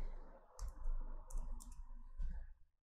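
Mouse clicks while creating a folder in Unreal Engine 4, a few quiet, close, sharp clicks spaced over a few seconds with no talking.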